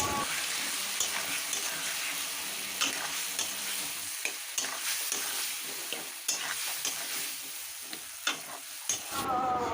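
Masala of Kashmiri chili and half a spoon of turmeric frying in a pan for a bhindi and potato dish, with steady sizzling and repeated scrapes of a spoon stirring, close and continuous with no talk.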